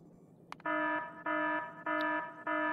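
Factorio's in-game alarm sounds as four evenly spaced, loud electronic buzzer tones, each about a third of a second long, repeating alone with no speech.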